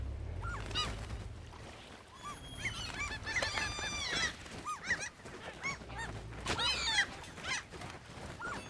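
Geese honking repeatedly outdoors, loud overlapping calls in bursts across the clip, with low rumbling noise underneath and a dog-like whimper mixed in.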